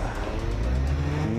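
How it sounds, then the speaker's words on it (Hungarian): Rally car drifting around a red barrel, its engine droning loud and steady with rising harmonic whine and a faint tyre squeal, close by and without a break. "most a piros hordót körbe drifteli"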